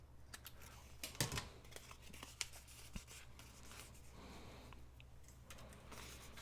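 Scissors snip through paper to shape a small decorative pointed top, making a few soft, quiet cuts and rustles with no talking.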